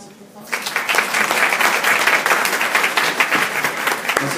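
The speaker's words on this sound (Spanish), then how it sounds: "Vamos a darle un aplauso, por favor." Audience applause at a medical talk on acute diabetes complications, starting after a quiet half second and continuing as steady, dense clapping from a crowd, fairly loud throughout.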